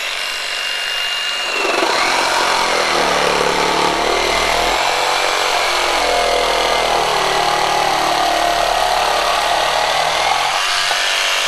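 A Flex jigsaw cutting wood in full orbit mode, running loud and steady after a brief start-up, with a continuous high-pitched buzzing saw sound holding for the whole length of the cut.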